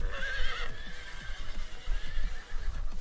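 A horse in a Jackbox party video game whinnies in a shaky, wavering neigh lasting a few seconds, with soft clopping sounds underneath and no speech.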